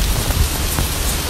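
Heavy rain pours steadily over flooded streets in Ramadi, Iraq, a dense, continuous hiss of water with a few brief louder spatters, no voices present.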